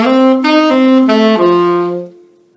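A saxophone plays D dominant 7th chord tones, four clear sustained notes in succession, close and bright, the last one held briefly before fading, with no voice present.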